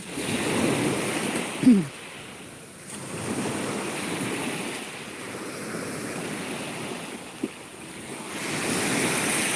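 Sea waves washing onto a beach in Istanbul, a continuous surf roar that swells and recedes in slow cycles, with steady wind noise buffeting the microphone and a couple of brief knocks.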